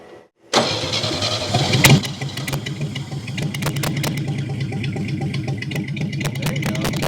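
Close up, the old, fire-damaged 1969 Chevy engine is cranked after decades of sitting, then catches with a loud surge and settles into a rough, steady idle for several seconds.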